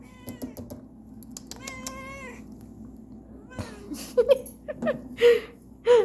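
A cat sitting in a kitchen sink with dirty dishes meows repeatedly, close and loud, with rising and falling calls growing stronger toward the end, plus light clicking sounds in the background.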